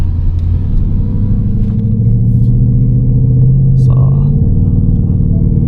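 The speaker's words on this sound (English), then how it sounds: "So this is a proper Valvetronic exhaust, and it makes a huge difference." A 2025 Ford Mustang GT with a Valvetronic exhaust, heard from inside with the window rolled up, makes a steady, muffled low rumble that swells slightly partway through. A brief word is spoken at the start.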